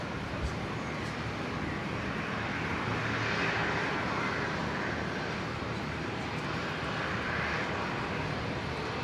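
An airliner rumbles past at Brisbane International Airport, a broad steady engine roar that swells and eases slightly across the whole stretch, fairly loud and continuous.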